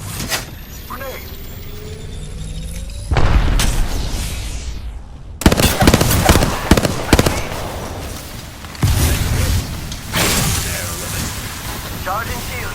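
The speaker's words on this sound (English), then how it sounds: "Grenade." A grenade blast in the video game Apex Legends booms out amid heavy gunfire and mechanical clatter, with several loud bursts layered over game effects and bits of character voice lines.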